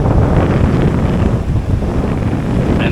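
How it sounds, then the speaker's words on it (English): Strong wind roaring at sea off Jamaica, a loud continuous rumble buffeting the microphone close up, with waves and a boat beneath it and no speech. "that wind is kicking ass."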